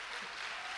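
Church congregation applauding during a family worship service, a steady dense wash of clapping heard briefly and fairly softly, with no voices standing out.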